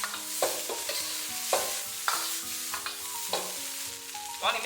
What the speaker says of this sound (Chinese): 再把炸好的花菜给倒入锅中，开大火给它翻炒均匀，